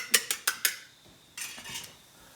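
Canned black beans tipped into a metal pan in a home kitchen, four quick clinking metallic taps followed by a soft, wet sliding thud and scrape, close and fairly quiet.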